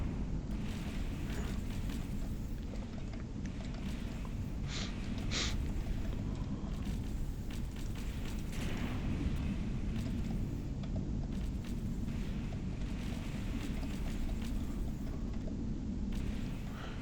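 Ship drive thrusters blowing apart during a space battle against pirates in the game Empyrion, heard as a steady low rumble with a few brief sharper bursts, continuous and fairly loud throughout.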